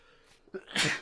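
A person sneezes once, nearby: a short, soft intake of breath followed by a sharp, noisy burst at the end.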